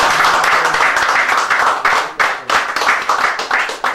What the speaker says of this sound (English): I'd like you all to give Eric a hand of applause